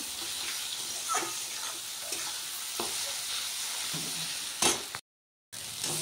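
Onion frying in a pan with chilli powder and ginger-garlic paste added, a steady broad sizzle with a few stirring scrapes and clinks, close and continuous, with a brief cut near the end.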